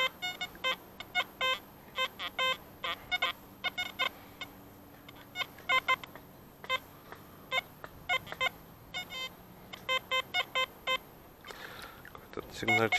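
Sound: XP ORX metal detector beeping over iron junk on beach

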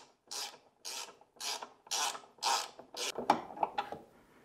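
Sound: ratchet with 3/8 socket and extension tightening a screw

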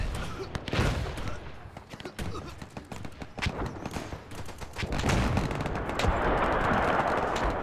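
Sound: machine gun fire in WW1 video game Between Empires

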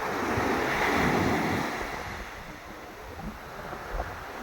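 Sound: ocean waves breaking on the shore

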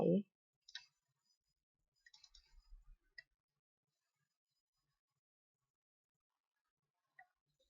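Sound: computer mouse clicking

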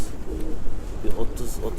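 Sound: pigeons in a coop

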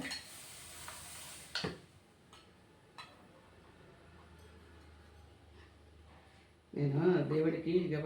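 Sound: ginger sizzling as it is added to the pan

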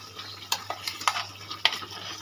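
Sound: spice paste added to a pan, sizzling and stirring for chicken curry

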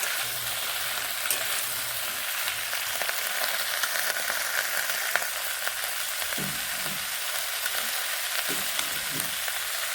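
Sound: stir-frying spring onion stalks with potatoes

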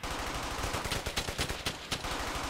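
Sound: gunfire from video game Brothers in Arms: Hell's Highway

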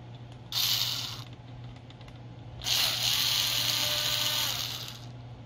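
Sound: cordless screwdriver removing laptop screen screws

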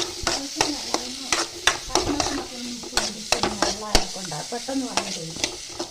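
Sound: stirring snake gourd curry in a pan

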